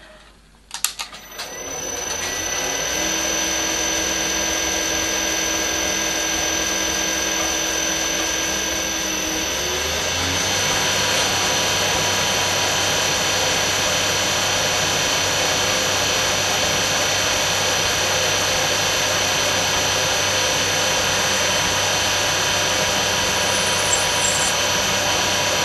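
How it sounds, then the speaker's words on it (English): A milling machine motor starts up and runs with a steady, loud whine while a drill grinds continuously through a metal part after centre drilling, with faint scraping near the end. "After centre drilling, I will drill it through 2mm."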